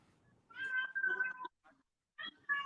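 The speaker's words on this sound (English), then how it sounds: "hear a cat" A cat meows in the background indoors: a drawn-out meow, a short chirp, then two further quick meows, clear but not loud, with no voices.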